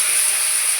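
Potato pieces hitting very hot oil with onion already frying, giving a steady, close, bright hiss with no talk over it.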